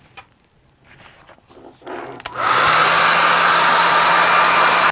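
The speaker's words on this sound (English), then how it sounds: "I'm going to use my hair dryer and I'm going to dry what's on there right now." A hair dryer kicks on partway through and blows loud and steady at close range, drying watercolour paint; quiet handling noises come before it starts.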